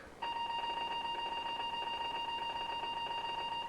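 A machine alarm kicks in after a short pause and holds a steady, piercing electronic tone with bright layered pitches, continuous and fairly loud until the end, with no talking over it.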